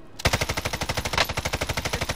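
A rapid burst of automatic weapon fire from the video game Call of Duty Warzone, with evenly spaced punchy shots rattling close and loud for about two seconds.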